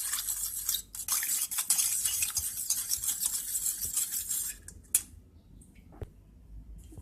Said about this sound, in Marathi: डाळ आता एका चमच्याने चांगली फेटून घ्यायची आहे.